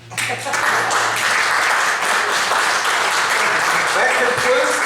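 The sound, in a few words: congregation applause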